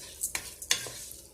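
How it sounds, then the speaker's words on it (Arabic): Food sizzles and fries in a pan as it is stirred, with two or three sharp scraping stirs over a steady close sizzle, alone without voices. "غادي يقلي شويه"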